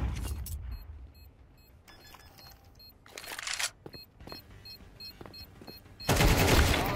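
Gunfire in Counter-Strike 2 comes as sharp rifle shots and rapid bursts, some close and loud and others lighter. Brief pauses separate the volleys before a dense, heavy barrage near the end.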